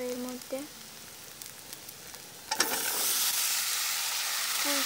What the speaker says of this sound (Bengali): এগুলো একসাথে ভালো করে একটু হালকা কষাতে হবে